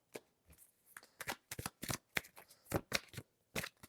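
Tarot cards being shuffled by hand, a series of crisp riffling bursts separated by short pauses, close and fairly quiet with no voices.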